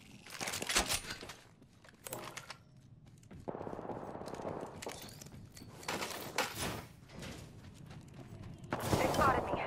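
Gunfire in Counter-Strike on the Mirage map, several bursts of shots with rapid automatic volleys and single cracks, separated by quieter gaps with movement and clatter, a voice speaking at points.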